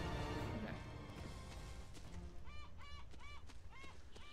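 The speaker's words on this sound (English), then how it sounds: "Hey, the bird's back! The bird's back! The ambient bird." Ambient bird honking in Uncharted: Drake's Fortune, outside a church in a graveyard area: a goose-like bird honks in a repeated rhythmic series over a rumbling game background, moderately clear amid the ambience.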